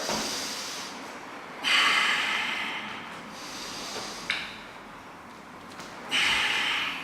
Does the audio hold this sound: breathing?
yes